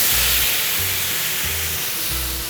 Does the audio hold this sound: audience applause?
no